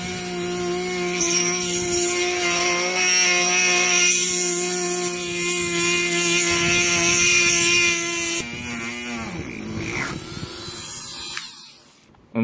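A Dremel rotary tool running at about 5,000 RPM bores into a spondylus shell to make a circular bead, giving a steady high-pitched whine that holds for several seconds and then drops and cuts out near the end.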